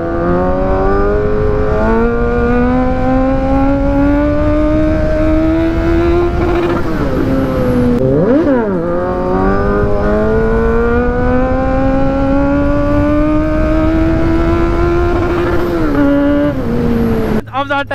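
A Kawasaki Z900 motorcycle pulls away up close, its engine loud and droning as it climbs through rising revs, dips briefly with a gear change and climbs again.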